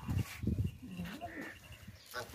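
Goats for sale at a livestock market bleat at close range while someone talks over them, the animal calls rising and bending between his words.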